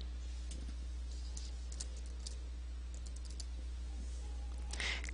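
Quick, light keystrokes on a computer keyboard while entering a name into a Creo software dialog box, close and clear over a steady low electrical hum.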